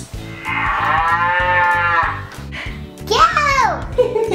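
A cow gives a long, loud moo over a rhythmic beat, then a voice speaks briefly.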